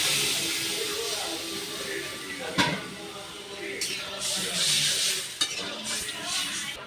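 Water poured into a hot pan of cooking rupchanda and boal fish with aubergine, sizzling and hissing steadily with a few sharp clinks of a utensil against the pan, close and moderately loud.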